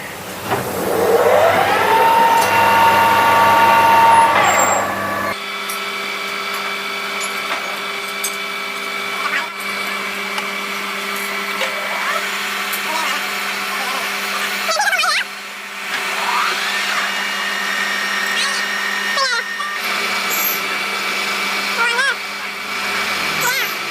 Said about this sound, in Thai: เจาะเพื่อไปเป็นรู